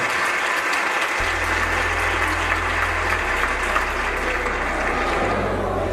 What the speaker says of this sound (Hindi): जोर से ताली बजाकर प्रभु को धन्यवाद।